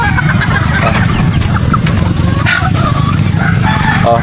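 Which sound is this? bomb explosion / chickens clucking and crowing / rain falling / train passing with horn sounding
chickens clucking and crowing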